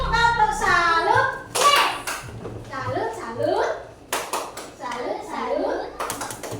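Students in a classroom clap and tap in a patterned rhythm for group 1, with sharp bursts of hand claps breaking through children's voices chanting and talking.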